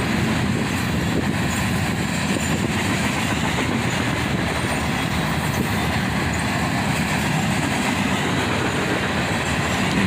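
A CSX freight train made up entirely of covered hoppers rolls past at speed, a continuous loud roar of wheels and rattling cars holding steady throughout with no voices.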